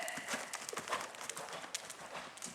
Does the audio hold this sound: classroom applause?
no